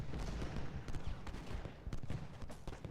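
Continuous rumbling volleys of Civil War artillery and musket fire during a battle for Cemetery Hill in the video game Ultimate General Gettysburg, dense overlapping booms and crackles with no pauses.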